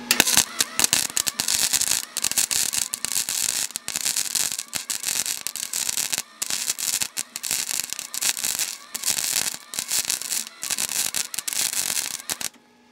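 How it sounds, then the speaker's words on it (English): Arc welding a full bead at 70 amps on power from an EcoFlow Delta 2 Max, a dense crackling and sizzling that pulses in bursts with short breaks for about twelve seconds, close to the microphone. "Okay, full bead at 70 amps."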